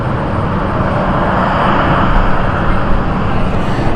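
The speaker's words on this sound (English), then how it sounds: "our first Logan of ATR is inbound" Loganair ATR 72 turboprop at London City Airport, a steady broadband engine roar held at a constant level throughout, fairly close and loud with no talk over it.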